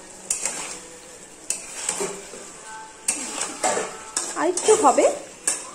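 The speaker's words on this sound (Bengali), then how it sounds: "ভালো করে এটাকে কষিয়ে নেব, ঢেকে রাখি" A Bengali dish is stir-fried (kosha) in a pan, with a spatula scraping and knocking the metal in repeated strokes over a soft sizzle. A voice speaks briefly near the end.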